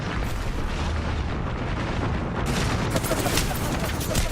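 A frag grenade explodes in a battle royale shooter amid heavy battle noise, with booming blasts and rapid gunfire layered in a loud, continuous roar.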